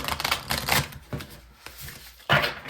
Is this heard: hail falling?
no